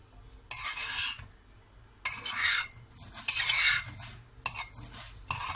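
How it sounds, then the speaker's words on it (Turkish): Cooked rice pilaf is fluffed with a utensil in a pot, giving several bursts of close scraping and rustling strokes separated by brief pauses, with light clinks against the pot. "Şöyle bir pilavı bir havalandıracağım."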